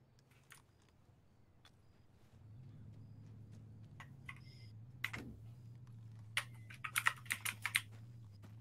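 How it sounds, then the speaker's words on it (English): Computer keyboard typing in a tense field-medical scene, scattered keystrokes growing into quick bursts toward the end over a steady low hum, fairly faint. "Keyboard noise scalper."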